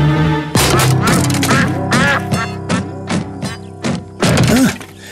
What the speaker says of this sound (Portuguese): Será que vocês podem dizer ao Pocoyo quem fez esse barulho? O pato! É o pato!